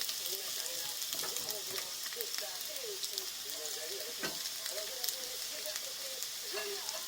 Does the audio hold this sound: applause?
no